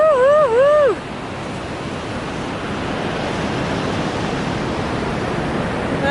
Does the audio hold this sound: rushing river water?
yes